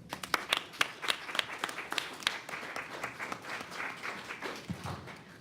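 An audience applauds panelists at a discussion event, with many hands clapping in a dense, steady patter that starts sharp and crisp and gradually softens.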